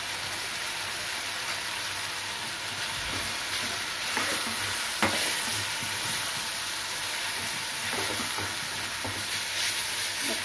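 Tomato cashew curry stirred in a pan with chili powder and turmeric, a steady sizzle with scraping spoon strokes at intervals, close and fairly loud, no talking.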